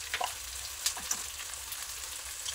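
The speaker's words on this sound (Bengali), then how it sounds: "ডিমটাকে এইভাবে একটু ভেজে নেব।" Egg seasoned with salt and turmeric frying in hot oil together with onions for an egg veg pasta, a steady close sizzle and hiss with a few sharp spatter pops, no one speaking.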